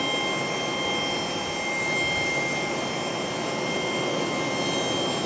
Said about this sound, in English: here comes that 737 from home base